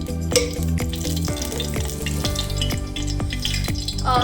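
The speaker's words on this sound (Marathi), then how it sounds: "त्याच्यामध्ये आपण अद्रक लसूण मिरची पेस्ट केलेली आपण याच्यात टाकून घेऊ" Ginger, garlic and chili paste sizzles and crackles in hot oil in a pan, a steady loud frying hiss with scraping stir strokes over a low background hum, no talking.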